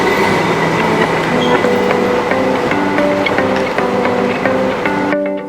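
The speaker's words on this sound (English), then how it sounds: "We were travelling on Sweden's SJ Snabbtåg train" Sweden's SJ Snabbtåg train travelling: a steady, loud interior rumble with repeated clicks and faint tonal whines running throughout, with no voices.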